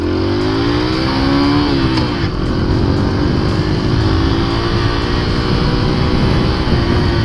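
A Monarch Axis 125 scooter accelerates to 50 km/h, its loud, close engine note rising and holding steady with no talking over it.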